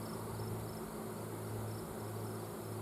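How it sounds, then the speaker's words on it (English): A low, constant insect drone of many bees buzzing around an outdoor bear-bait site in the woods, faint and distant, unbroken with no talk. "There are a lot of bees here."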